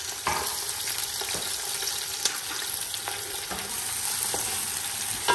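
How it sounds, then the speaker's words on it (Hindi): Chopped onions fry in hot oil for biryani, giving a close, continuous sizzle broken by occasional stirring scrapes. "सबसे पहले ये जो प्याज काटी थी इसको अंदर डाल के इसको फ्राई करना है"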